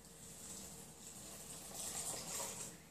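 Water pours into a casserole dish for microwave cooking, a soft steady stream that swells slightly toward the end, with no talking.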